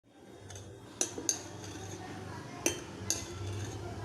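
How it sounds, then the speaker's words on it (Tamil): Fermented idli batter made with wheat rava and sago being stirred in a bowl, soft mixing swishes broken by several sharp clinks of a spoon against the container, quiet and close, with faint murmuring in the background. "இப்போ மாவை கலக்கி பார்ப்போம்"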